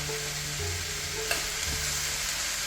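About a tablespoon of butter sizzles steadily in a hot pan, a close, even frying hiss with a faint scrape of stirring partway through and no talking.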